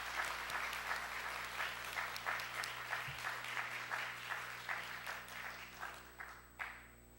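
Church congregation applauding to welcome a newcomer during a Sabbath service, sustained clapping from a fairly distant room that gradually thins out into a few last scattered claps.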